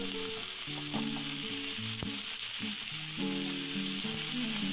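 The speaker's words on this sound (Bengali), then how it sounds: "এবার কেটে রাখা টমেটোগুলো দিয়ে দেব।" Chopped tomatoes added to reddish-browned fried onions with five-spice seeds in a pan for a fish curry, giving a loud, continuous sizzle with clinks of stirring; low musical tones sit faintly in the background.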